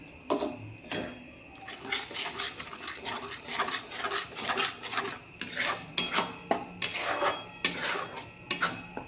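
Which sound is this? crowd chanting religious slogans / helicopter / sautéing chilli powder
sautéing chilli powder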